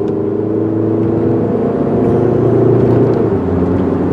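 Inside a silver 2001 VW Jetta GLS with a four-speed automatic, the engine hums and rumbles steadily while driving, with a low, continuous drone under faint road noise and a gentle rise in pitch as gas is applied.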